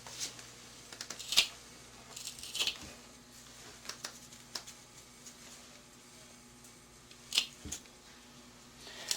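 A piece of leather is cut into small pieces at close range. Scattered quiet snips and crisp cutting clicks come at irregular intervals, with soft handling rustle between them.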